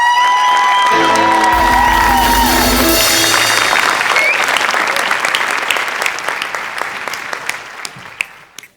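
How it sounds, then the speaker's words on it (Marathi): A standing audience at a Marathi comedy show breaks into loud, dense applause with cheers and whoops, a tonal sweep running over the opening seconds, then the clapping thins and fades toward the end. "एकदा उभं राहून टाळ्या वाजवा."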